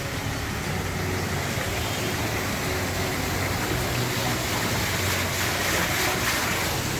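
Water rushes and churns steadily at the 300-year-old Panchakki water mill in Chhatrapati Sambhajinagar, a dense continuous roar, loud and close, with no break.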